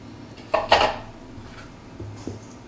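Rolled oats and all-purpose flour stirred together in a bowl for oatmeal chocolate chip cookie dough, giving two loud close scraping clatters early, then softer knocks and scrapes, with no talk.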